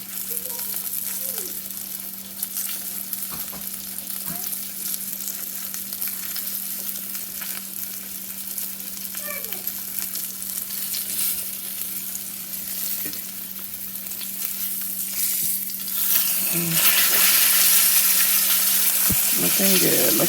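Pork chops frying in grease in a pan, a steady crackling sizzle with occasional stirring clinks, growing brighter and louder near the end, with no talk.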